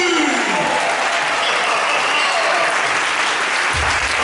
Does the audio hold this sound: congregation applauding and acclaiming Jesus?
yes